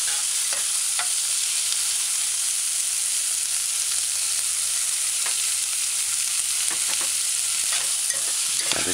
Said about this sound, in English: add the diced spring beans, stir that in for a little while